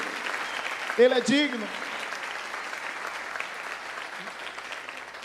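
A church congregation applauds during a Portuguese-language worship service, with continuous crowd clapping throughout and a voice briefly speaking over it.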